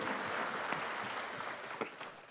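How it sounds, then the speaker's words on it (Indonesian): A faint, dense wash of applause from an audience at a regency candidates' debate in Jember, steady throughout with a few sharper claps near the end. "Mungkin kita beri tepuk tangan dulu untuk Hendy"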